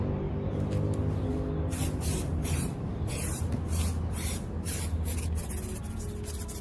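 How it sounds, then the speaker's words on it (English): Sanitizer spray hissing onto a fiberglass surface in a steady, loud, continuous spray with brief pauses between bursts. The work is for a custom rear diffuser. "what I'm going to use to clean down the surface is sanitizer spray"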